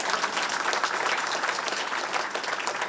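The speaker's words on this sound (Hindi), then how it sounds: "तो पूरा किया तो जोरदार ताली मारिए" An audience claps at a clinic inauguration ceremony in Khar, Mumbai, producing a sustained, even burst of crowd applause that sounds somewhat distant and moderately quiet.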